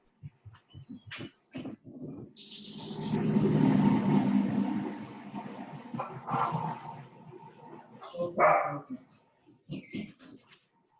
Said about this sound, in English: I have a dog that is yapping.